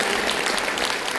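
Audience at the annual function of Hills International School, Pauri, breaking into dense, steady applause for the teaching and non-teaching staff, a continuous wash of many hands clapping at even loudness throughout.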